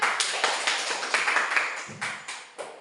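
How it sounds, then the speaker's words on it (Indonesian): Classroom of students clapping hands in unison, a steady rhythm of sharp, fairly close claps repeating about every quarter second for a few seconds, no voices over it. "Kasih tepuk tangan."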